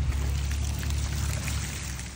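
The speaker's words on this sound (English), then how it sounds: "drain that water out" Water draining out of a sack of freshly washed crawfish, a steady loud gushing pour close by, with no talk.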